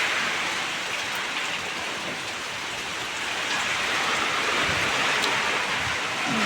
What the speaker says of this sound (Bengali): বৃষ্টি পড়তে আছে, প্রচুর বৃষ্টি পড়তে আছে